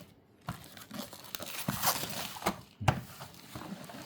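Cardboard and plastic packaging of an Assur ASR131 cordless drill box is torn open up close, with a run of rips, crinkles and a few sharp tearing bursts and soft thunks.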